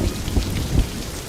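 Heavy rain in a Star Wars Andor episode, with low thunder thuds rolling under the downpour in a short, close burst and no voices.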